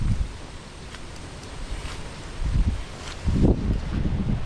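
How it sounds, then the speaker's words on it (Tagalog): Gusty wind roars steadily through mango trees in San Antonio, Nueva Ecija, rising in stronger surges toward the end, with rumbling buffeting and a faint rustle of leaves. "ganito katindi ang hangin dito"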